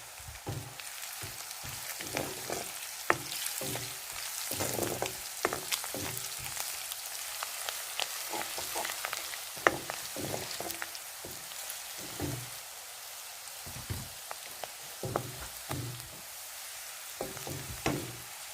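Chicken curry with garam masala frying in a pan, a steady crackling sizzle with scattered pops and occasional stirring clicks running throughout at moderate level.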